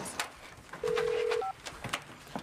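A telephone gives a single short electronic ring tone that rises in pitch at the end. It stands out briefly against a quiet room with faint background activity.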